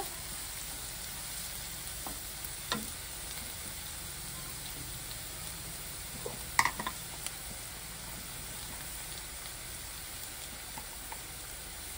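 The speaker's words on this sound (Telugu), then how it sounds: "ఈ బెండకాయ ముక్కలని ఇలా కలుపుతూ ఉండాలి. ఇలా మంచిగా అయితే బెండకాయ ఫ్రై అయింది." Okra (ladies finger) pieces frying in a pan, with a faint, steady sizzle and a few sharp clinks and scrapes of stirring.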